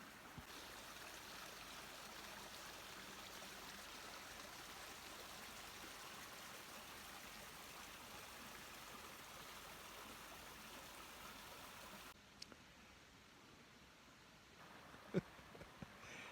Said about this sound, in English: I think the river is too soothing.